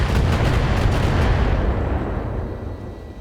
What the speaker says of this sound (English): Ammo explosion for the win.